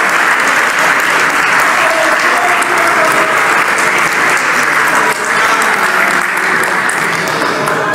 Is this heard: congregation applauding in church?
yes